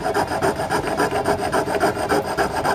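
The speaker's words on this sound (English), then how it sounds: "So I said, well, I might as well try the jeweler saw." A jeweler saw cuts with a steady back-and-forth rasp, a fast even rhythm of strokes heard up close and alone with no talk.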